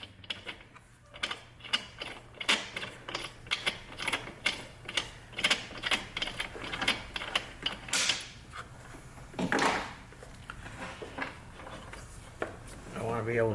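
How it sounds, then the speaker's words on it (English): A wrench works loose a spark plug on a Honda engine, giving a string of close ratcheting clicks and metallic creaks in uneven bursts, with a louder scrape near the end and a person speaking at moments. "let me get a wrench, and I'm gonna take the spark plug out so it makes it easier to turn it over"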